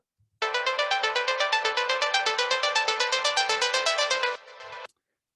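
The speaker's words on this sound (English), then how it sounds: "there is this synthesizer blip." A bright modular synthesizer blip, soloed, pulses rapidly in an even rhythm for about four seconds, then drops to a softer sustained tail before stopping abruptly.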